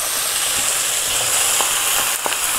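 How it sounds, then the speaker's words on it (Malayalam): Chicken pieces hitting a pan of roasted coconut and spice masala for a village-style Kerala chicken curry, giving a steady close hiss of sizzling with a few brief clicks and pops, no voices. "ഈ സമയം നമ്മളിതിലേക്ക് ചിക്കൻ ആഡ് ചെയ്ത് കൊടുക്കുക കേട്ടോ."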